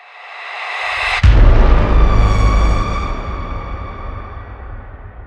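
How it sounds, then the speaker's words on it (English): A Braams cinematic sound effect called Screamer, layered for a trailer-style cue, hits after a rising high whoosh as a single loud booming brass-like blast with a heavy low rumble that sustains and slowly fades. "The fourth and final layer for this cue is another Braams sound, Screamer, sounds like this."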